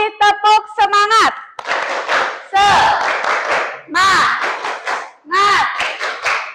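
A class of schoolchildren chants a spirited call-and-response, with loud, close voices and rhythmic claps. Bursts of sung shouting alternate with brief pauses.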